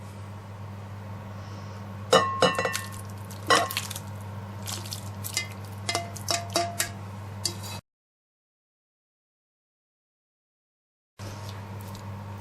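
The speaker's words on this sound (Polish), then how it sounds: "I całość zalewam warzywami z patelni" Cooked vegetables being tipped out of a frying pan over seasoned white sausage, a close series of wet squishes, clatters and tapping spatula clicks in irregular clusters, then a break of silence before the sounds resume.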